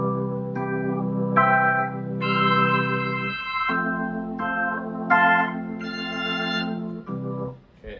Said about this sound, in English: So this electric organ sounds like this.